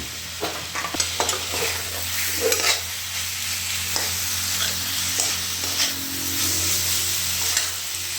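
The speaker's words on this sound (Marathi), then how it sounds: "बस तसं दोन तीन मिनिट परतून घेणार आहे" Bitter gourd stir-fry is sautéed in a pan with a steady sizzle and repeated scraping strokes of a spatula, close and continuous with no speech.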